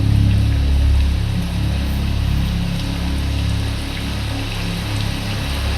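Rain falling steadily, an even wash of drops with a low constant hum underneath, loud and continuous with no voices.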